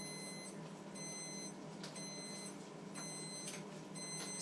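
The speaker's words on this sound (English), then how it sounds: "Oh, there's the alarm." A kitchen alarm beeps in steady repeated bursts, roughly one per second, high-pitched and clear over a constant background hum.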